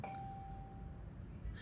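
A single bell chimes once, soft and quiet, then rings out and fades over about a second with no voices.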